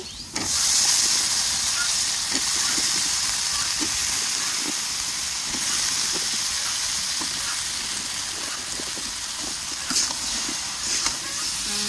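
Vegetables, including pointed gourd, hitting hot fried spices for a fish curry, giving a loud, steady sizzle and hiss with occasional stirring clicks, no talk.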